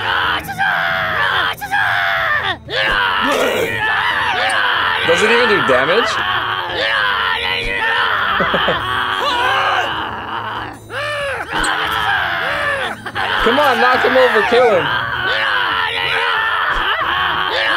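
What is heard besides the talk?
Damned Screecher unit yelling in the video game TABS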